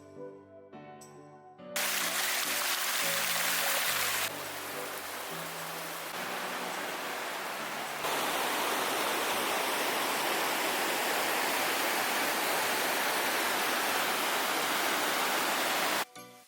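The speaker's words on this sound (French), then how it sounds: "on va redescendre vers le petit torrent là qui est en contrebas" A small mountain torrent rushes below a hiking trail toward the Chileno refuge at Torres del Paine. After a brief tonal opening, a loud, steady broadband roar of churning water fills the scene.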